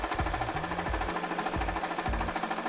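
A sewing machine joins small fabric scraps with a rapid mechanical chatter, punctuated by regular low thumps roughly every half second, close and continuous.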